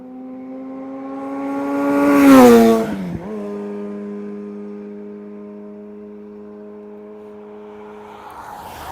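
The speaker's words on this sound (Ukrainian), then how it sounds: "Пацани поїхали на спортивних мотоциклах." Engine roar of sport motorcycles rising in pitch as they pass close by, then a steady droning tone that fades into the distance.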